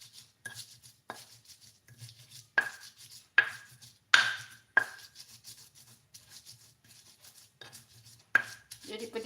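Red chili being ground by hand in a stone mortar and pestle (ulek) for village-style fried rice: sharp, irregular grinding knocks and scrapes every second or so, close and fairly quiet, with no talking.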